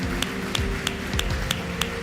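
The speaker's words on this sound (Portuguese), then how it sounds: "Exalte o Senhor Jesus com as suas palmas" Congregation in a church clapping in a steady, even rhythm, the claps regular and moderately close with a low music-like drone underneath and no talk.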